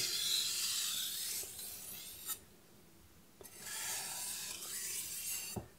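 A knife is sharpened on a King whetstone with alternating single strokes, producing close, gritty scraping sweeps that rise and fall in two long passes separated by a quieter gap, with light taps between.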